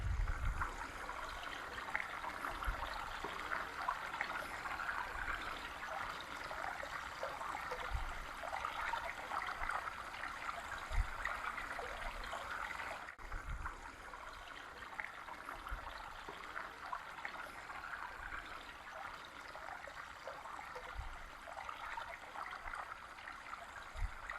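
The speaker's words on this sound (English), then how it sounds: "you can hear the sound of water" A small stream trickles and babbles continuously near a small packhorse bridge in the Dark Peak, fairly quiet and steady, with no voices.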